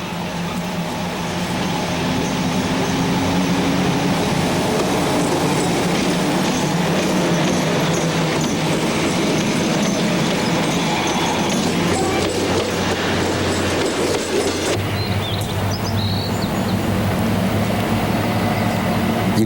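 A freight train hauling cement along the Korean east coast near Taebaek rumbles past steadily, wheels clacking over rail joints with a continuous heavy roar and a brief squeal near the end.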